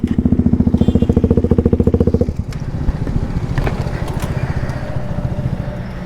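A misfiring, troublesome motorcycle engine throbs loudly in a steady pulsing rhythm while riding, then drops into a rougher, mixed rumble of wind and road noise with a few sharp clatters, as if stones hit the tyre.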